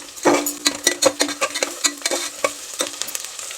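Onions and three green chillies sautéing in a pan, with a light sizzle under brisk, close stirring scrapes and spatula taps in a quick, uneven rhythm, and no talking.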